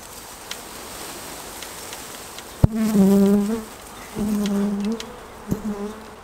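A honeybee swarm being shaken down into a straw skep buzzes in a dense, droning hum that swells in two louder bursts, with sharp knocks and thumps from the shaking breaking through the steady insect noise.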